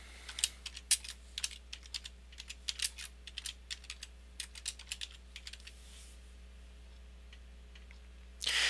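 Typing on a computer keyboard to enter a name into web page source code, with quick irregular clicks for several seconds that then stop, quiet and close over a low steady hum.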